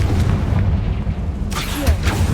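The Confringo explosive spell in the PC game Hogwarts Legacy lands as a loud, deep booming blast with rumbling low end and a crackling burst partway through.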